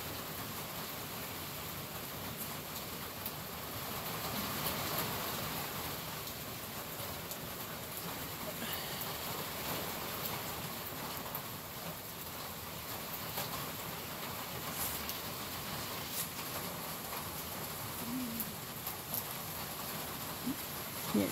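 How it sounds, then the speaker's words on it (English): Heavy rain pouring on a trail shelter in the Smokies, a dense, steady patter drumming evenly throughout with a few sharper drips near the end and no talking. "I don't know if you can hear it raining or not, but I'm in the shelter and it is pouring."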